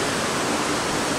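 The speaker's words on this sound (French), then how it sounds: "vous voyez les grosses vagues, c'est partout comme ça" Big ocean waves on the coast of Tenerife make a steady, dense roar of surf, loud and continuous with no break and no voices.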